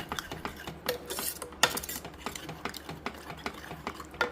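A spoon stirs chili powder into mango dal in a pot, with steady clinks and scrapes against the metal sides repeating at a quick, uneven pace, close and fairly quiet.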